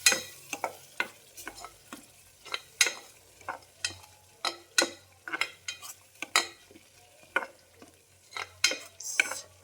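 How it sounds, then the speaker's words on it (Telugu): Masala paste for a chickpea (senugullu) gravy frying in oil while being stirred: a steady run of sharp, close scraping strokes at an uneven rhythm over a soft, low sizzle. "బాగా మసాలా ఆయిల్లో బాగా వేగాలి ఫ్రెండ్స్. అంతవరకు అయితే వేయించుకుందాం."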